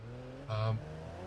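A car crawling with no traction revs its engine in one short, rising burst that fades back to a faint hum, heard alone without talk.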